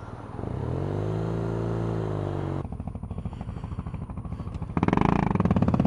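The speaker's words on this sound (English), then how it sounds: "I thought he was on a big sort of a cruiser bike when I heard him, but turns out his bike is just busted" BMW R nineT Racer motorcycle engine running: a loud, close, steady droning rumble that shifts partway through to a rougher pulsing idle, then rises to a louder, harsher note near the end.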